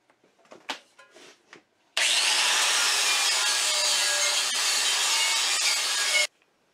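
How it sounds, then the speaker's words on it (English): A power tool spins a wire cup brush against a cast iron Griswold skillet: a few scrapes and clinks, then a loud, steady abrasive whir for about four seconds that cuts off abruptly. "Time to get buffing."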